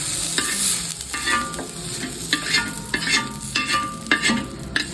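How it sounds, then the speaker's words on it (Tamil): Onions sauté in a pan for a crab omelette, a steady sizzle broken by repeated scraping stirs of a spatula, close and fairly loud, with no talking. "இந்த வதக்கணும்ல வெங்காயம் வெங்காயத்தை அதில் போட்டுக்கணும்"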